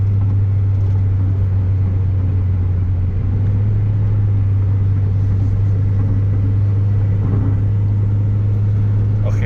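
A remapped Toyota Yaris 1.5 accelerating, heard from inside as a loud, steady low engine drone and road rumble that holds for nearly ten seconds with no talking.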